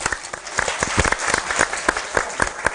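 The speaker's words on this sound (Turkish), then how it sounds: "bir alkış daha alalım." Audience clapping for a village folk dance team on a Turkish television show, with loud, close claps in an uneven, slightly rhythmic pattern through a short burst.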